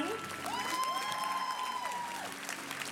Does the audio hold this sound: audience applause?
yes